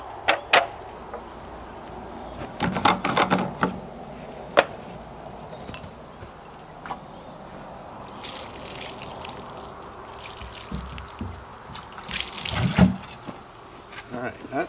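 Water runs and splashes over cured ham or bacon as it is rinsed before being patted dry, with scattered clatters and knocks from handling. A fuller gush rises near the end.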